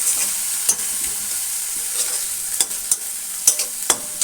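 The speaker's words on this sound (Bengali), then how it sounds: "মশলাটা দিয়ে একটু নাড়াচাড়া করবো।" Ginger-cumin paste, chili paste and turmeric fry with onions in a pan for a duck egg curry. A steady hiss runs throughout, broken by sharp scrapes and taps of a spatula stirring at irregular intervals.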